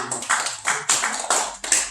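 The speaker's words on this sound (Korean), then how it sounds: "하나님께 영광의 박수를" Applause in a Korean church during a Thanksgiving harvest service, a handful of close, uneven bursts of clapping, sparse rather than a full roar, with no talking.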